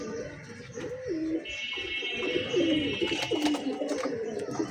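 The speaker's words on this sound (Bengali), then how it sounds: "খুবই ভালো মানের একেবারে র বেজি কবুতর।" Several Giribaz pigeons kept indoors coo in low, rolling, repeated calls close by, overlapping one another above a steady background hiss, with a brief higher chirp near the end.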